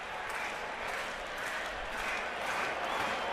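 A large crowd at the Yankees at Orioles postseason baseball game fills the stadium with a continuous, loud roar of cheering and clapping, a wide wash of noise with no break.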